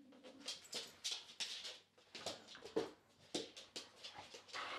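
A rescued pet dog whimpers and whines in a series of short, repeated cries with brief pauses between them, close by and fairly quiet.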